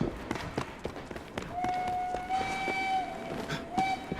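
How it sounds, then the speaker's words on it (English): A train passing in the video game Assassin's Creed Syndicate, a steady rumbling roll with rhythmic clacks and a sustained whistle-like tone sounding twice, fairly close and moderately loud, with no speech. "Hey, it's my train."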